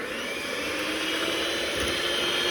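An electric whisk whirs steadily at close range, mixing pistachio cupcake batter in a bowl, a continuous high motor drone with no pauses.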